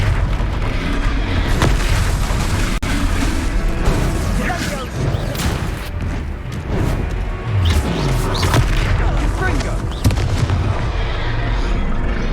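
Confringo blasting spells explode in Hogwarts Legacy, a rapid, loud series of booming blasts and crashes that keeps going with short gaps between bursts.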